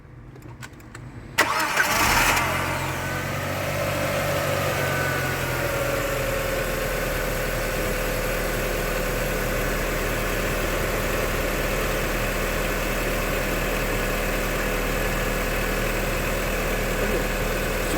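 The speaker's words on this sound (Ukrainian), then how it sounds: "Можемо запускати автомобіль." A car is started during a battery starter test: a brief cranking burst, then the engine catches and settles into a steady, even idle that continues to the end, with no talk.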